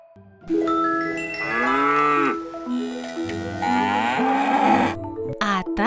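A cow moos loudly and close by in long, drawn-out calls, with a short pause between lowing bursts.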